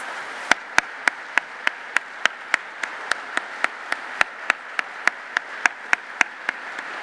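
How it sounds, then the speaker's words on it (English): At a shareholder meeting, sustained applause for committee members runs under regular sharp, loud close claps, steady and evenly spaced throughout. "If those members could stand now in a round of applause"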